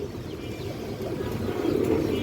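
A pair of Bagha pigeons of an old bloodline coo softly and steadily, close by, with a low continuous murmur and no talking.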